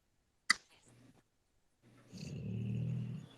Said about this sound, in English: this is a snoring dog that I get to sleep next to every day.